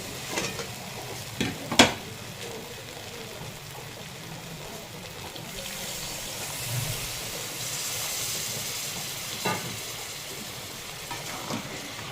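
Water is poured into a pan of potatoes and pointed gourd frying with spices, bringing up a broad, steady sizzling hiss after a few clattering stirs, close and continuous.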